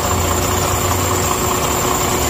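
A truck engine idles steadily up close, a constant low mechanical hum with faint vibration and no talk.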